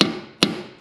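A hammer strikes metal in a car workshop with two sharp, ringing blows about half a second apart, close and loud, each decaying into a short echo.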